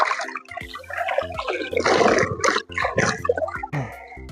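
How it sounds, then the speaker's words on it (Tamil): Cloth towel dipped into and lifted from water for a soap experiment, giving loud sloshing, splashing and dripping that runs continuously with a brief pause midway. "இந்த துணியை தண்ணியில் முக்கி எடுத்துக்கலாம்"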